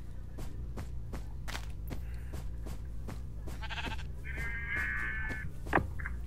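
Sheep in the Minecraft video game bleating in short synthetic calls over a steady rhythm of blocky game footsteps, with a few sharp sound effects and no talking.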